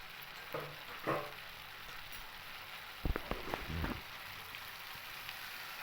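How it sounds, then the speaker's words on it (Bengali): Masala paste with cashews and melon seeds stirred and fried in oil in a wok, a quiet steady sizzle broken by a few scraping stirs and a cluster of clattering strokes midway. "এইভাবে আমি এবার অনবরত নাড়তে নাড়তেই মশলাটাকে কিন্তু খুব ভালো করে একটু কষিয়ে নেব"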